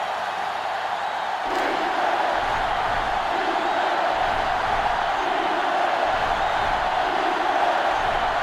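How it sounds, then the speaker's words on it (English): A stadium crowd roars in an NCAA Football 2005 video game during a Michigan versus Ohio State matchup, producing a dense continuous cheer that swells slightly and stays loud throughout. "this crowd is going absolutely crazy"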